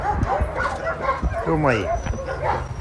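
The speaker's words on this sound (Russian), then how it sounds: "Стерилизованная, хорошая собачка." Several dogs at an animal shelter yelp, bark and whimper close by in quick overlapping bursts, with someone speaking over them.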